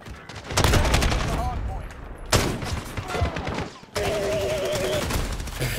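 Repeated gunfire from an unusual, ugly-looking gun in the video game Modern Warfare, with dense bursts of shots in quick succession, a brief break, then more firing, loud and close, with a voice speaking over part of it.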